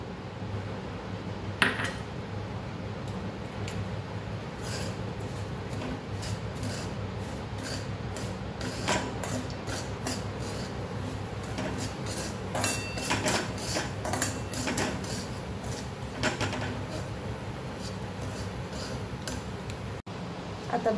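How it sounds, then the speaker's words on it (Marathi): Semolina roasting in ghee in a kadhai, stirred with a spoon, giving repeated light scraping and ticking contacts against the pan over a soft steady background, with no talk. "या तुपामध्ये रवा छान असा भाजून घ्यायचा आहे."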